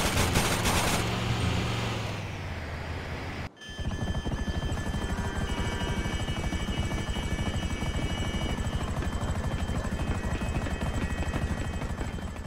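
Helicopter in a doomsday video game, a steady close rotor thrum with dense rhythmic chopping that cuts in abruptly and then holds loud and continuous, with gunfire-like crackle mixed in.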